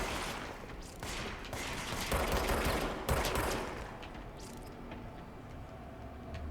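Enemy gunfire in the action game Control, a dense clatter of shots and impacts that swells and fades over several seconds with a steady rumble beneath.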